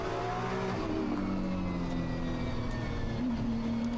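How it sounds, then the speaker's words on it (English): Japan Cup race car in qualifying at Okayama, its engine running steadily at moderate revs as the driver eases off the throttle through a corner, a continuous loud drone with faint tire noise and no voices. "you suddenly hear how he's not quite as aggressive on the throttle, and he's not able to drive out the corner as he wants"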